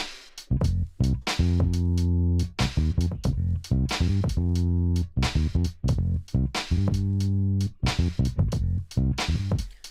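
A deep, punchy bass guitar plays a laid-back groove in repeated phrases, notes landing slightly behind the beat, loud and close with no voices.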